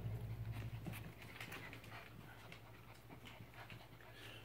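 Seven-week-old puppies pant and whimper in a continuous, fairly faint stream of small breathy noises with a low hum underneath.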